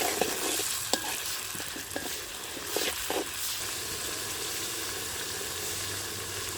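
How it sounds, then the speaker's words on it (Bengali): Fish pieces sautéing with onion, green chilli, tomato and garlic in a pan, an even steady sizzle with several distinct stirring clacks early on, then mostly smooth frying, close and without speech. "এখন দিয়ে দিলাম মাছগুলো তো মাছগুলো দিয়ে কিছুক্ষণ কষিয়ে নিলাম"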